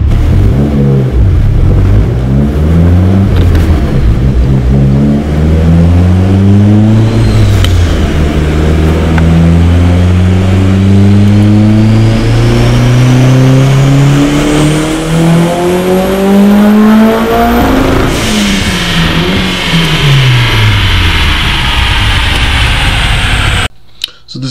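A turbocharged first-generation front-wheel-drive Mitsubishi DSM with a 6-bolt engine, BC 276 cams and 1200 cc injectors revs hard through a pull, its loud engine note climbing steadily through the gears and cutting off abruptly at the end.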